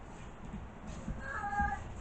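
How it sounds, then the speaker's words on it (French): A house cat meows in a short call, fairly faint against a dull background murmur, with no talking. "J'ai un chat qui a l'estomac réglé comme une horloge."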